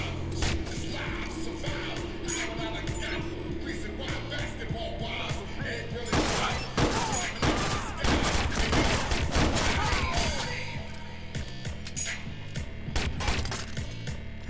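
Gunfire fills a Watch Dogs shootout, with a dense, sustained burst of rapid shots from roughly six to ten seconds over a constant game soundtrack and background effects. Lighter scattered shots come before and after, and a voice is heard briefly.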